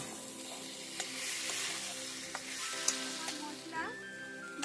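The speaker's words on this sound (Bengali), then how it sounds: "এখন একটু মশলাটা কষিয়ে নেব।" Spice paste for egg curry fries in a pan at home with a continuous close sizzle. Scattered scrapes and clicks from stirring cut through it.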